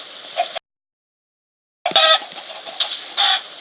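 A hen clucks in an egg and chicken factory video game, short clucking bursts that cut to total silence for over a second before resuming in several close, loud calls.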